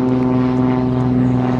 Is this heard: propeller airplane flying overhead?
yes